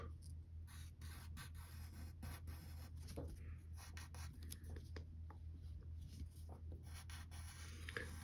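Pencil scratching quietly on paper while sketching a comic superhero figure, soft repeated strokes and brief rubs at close range with no talk.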